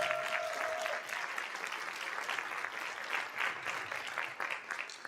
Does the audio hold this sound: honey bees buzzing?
no